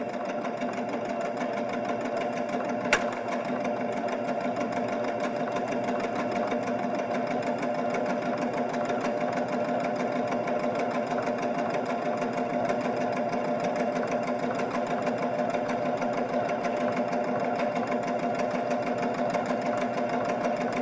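Baby Lock Jazz II sewing machine overcasting fabric edges, a steady rapid whir and needle chatter running evenly the whole time at close range, with one brief click early on and no talking.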